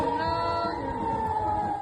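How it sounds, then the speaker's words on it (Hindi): An air raid siren wails in northern Israel, one steady sustained tone held loud and continuous, slightly fading at the end. "उत्तरी इजराइल में सायरन बज रहे हैं"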